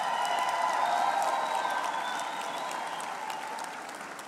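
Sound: applause

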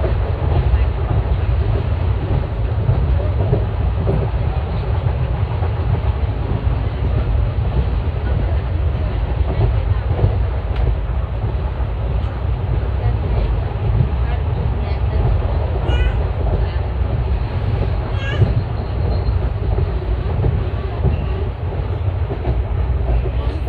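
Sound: onboard Koyna Express train running on rails

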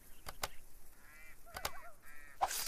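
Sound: birds honking, likely geese, near a fishing boat

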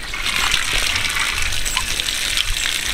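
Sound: water being poured

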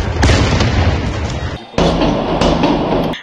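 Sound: gunfire and explosions during Almaty riot, Kazakhstan

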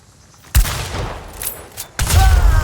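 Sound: shotgun gunfire in a video game

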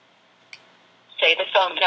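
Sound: telephone dialing tones

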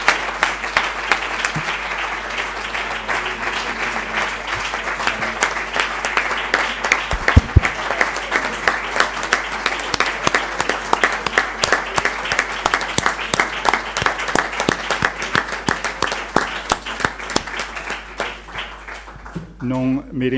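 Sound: audience applause, standing ovation after a lecture

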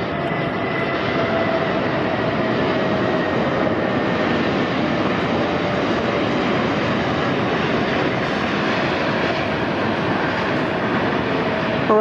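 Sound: Asiana Airlines flight 202 jet landing at LAX

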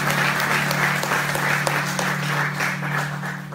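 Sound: congregation applause

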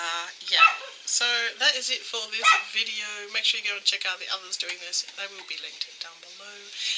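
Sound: dog barking

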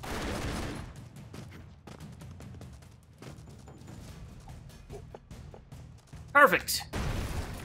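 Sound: grenade ricochet and explosions in Broforce video game

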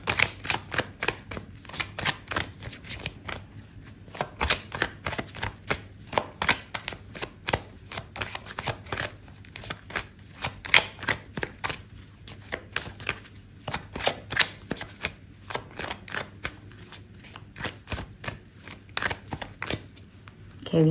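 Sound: drawing a tarot card from the deck

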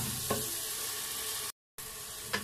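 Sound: tomatoes and spices frying in oil

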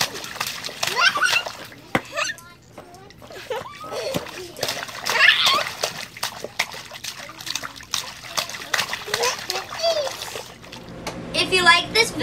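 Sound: water splash in a pool

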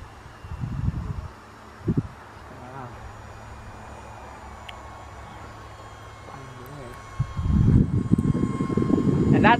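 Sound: E-flite UMX Turbo Timber RC airplane flying

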